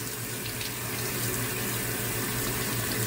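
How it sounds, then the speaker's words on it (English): Water runs steadily from a tap during handwashing, a constant close rushing stream with no talk. "And wash our hands. And wash away the germs."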